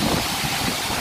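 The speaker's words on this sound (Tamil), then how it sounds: "காற்று பாருங்கள் எப்படி வீசுதுன்னு சொல்லி." Strong wind gusting near a hilltop temple, a steady loud broadband roar buffeting the microphone throughout with no voices present.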